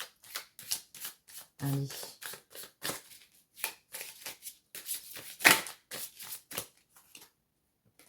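Playing cards being shuffled, a quick series of crisp riffling and slapping bursts at close range, broken by short pauses, with a brief spoken word from a woman.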